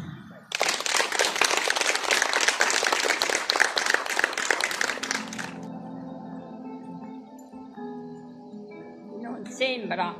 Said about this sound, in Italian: E quindi io partirei subito con un applauso per Rita.